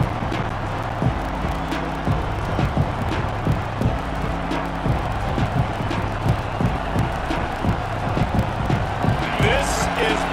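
A packed stadium crowd at a Tennessee vs Georgia college football game roars steadily throughout, a dense continuous wall of cheering beneath a commentator talking.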